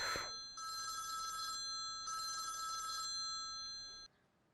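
A telephone bell rings in two long bursts separated by a short pause, clear and fairly close, in a quiet room with no talking.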